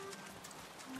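Steady rain falls in an animated cartoon scene, giving a soft, even hiss throughout, faint and constant with no talk.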